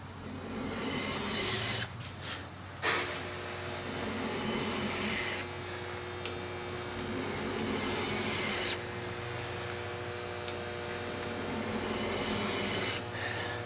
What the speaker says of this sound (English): and we can start draw filing them out.